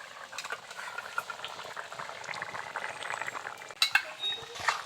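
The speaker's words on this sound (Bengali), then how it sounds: "দেখুন মাছগুলো দেওয়ার পর তরকারি ফুটে উঠেছে" Fish curry simmers in a pot after ginger-cumin paste is added, giving soft, continuous bubbling and popping with a few sharper clinks near the end.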